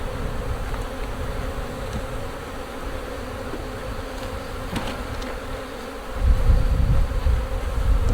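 Honey bees buzz around an open hive as it is split into nucs, a dense, continuous drone close by that swells louder near the end, with occasional faint knocks of equipment.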